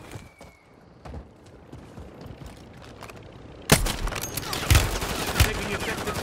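Gunfire in Call of Duty Warzone: scattered distant shots at first, then a sharp loud volley and repeated close bursts with heavy booms, with a game voice announcing in the background.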